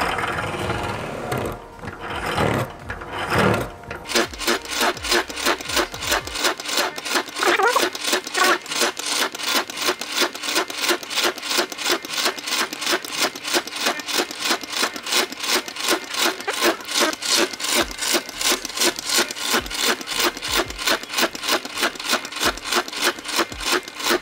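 A woodworking boring machine cuts a hinge hole about 3.5 cm in diameter into a kitchen cabinet door, giving a steady, loud, rapidly pulsing whir that runs on for about twenty seconds after a short mechanical start-up.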